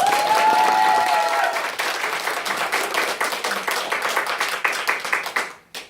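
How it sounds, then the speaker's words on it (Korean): An audience at a company business presentation seminar bursts into loud, full applause that gradually thins into scattered individual claps and fades out near the end. "자기 자신이 레전드, 크라운 되실 분은 박수 한번 세게 한번 쳐주세요"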